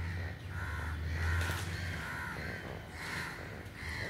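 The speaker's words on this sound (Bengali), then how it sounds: "কতগুলো কাক না পায়রা কি জানি কি একসাথে দল বেঁধে উঠছে আকাশে" A flock of crows cawing repeatedly outdoors at moderate distance, harsh calls coming in bursts over a low background hum.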